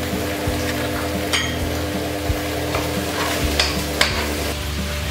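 Pork sautés in a pan with a continuous loud sizzle, while a utensil stirs and knocks against the pan in scattered clanks throughout.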